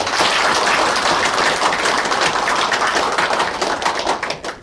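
An audience at a book launch celebration claps loudly and densely, a sustained wash of many hands that stays full for several seconds before starting to thin out at the end.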